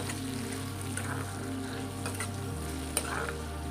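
Taro stolon curry is stirred in a pan, with a close, steady frying sizzle and scattered scraping and clinking strokes over a low background hum.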